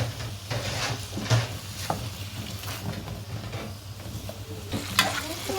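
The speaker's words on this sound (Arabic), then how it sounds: "نديلها بقى تشويحه حلوه كده" Julienned onion sautéed over a potato tray in a pan sizzles steadily, broken by repeated sharp scrapes and clinks as it is stirred.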